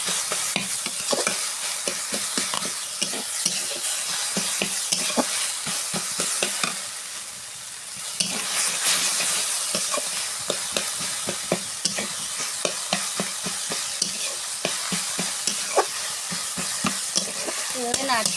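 Taro flowers frying in a pan, stirred with a steady scraping rhythm over a continuous loud sizzle, close up, with a brief dip midway and no voices.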